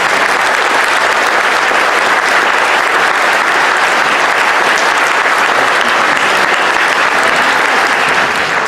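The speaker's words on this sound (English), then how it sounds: "we ask that you give them a round of applause for all of them." Audience applause for a panel at a debate event fills the room in a dense, steady roar of many hands clapping, loud and unbroken throughout with no speech over it.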